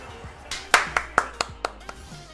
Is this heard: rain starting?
no